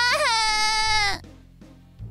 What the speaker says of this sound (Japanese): ゲスト席の方から大きな泣き声が聞こえてきました